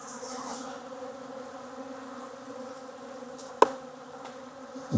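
Honeybees buzz steadily around a hive that has turned aggressive, a continuous close drone with a sharp knock partway through and louder buzzing close by at the end.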